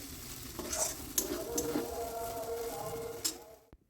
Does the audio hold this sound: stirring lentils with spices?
yes